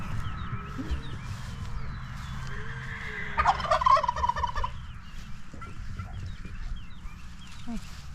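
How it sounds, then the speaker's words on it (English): A rooster lets out an odd, warbling call over a steady low background hum, with a few other bird chirps nearby on a goat farm. "Rooster's making a funny noise."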